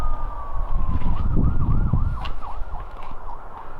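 Emergency vehicle sirens pass on a street, a long falling wail giving way to rapid rising-and-falling yelps over rumbling traffic noise, moderately distant.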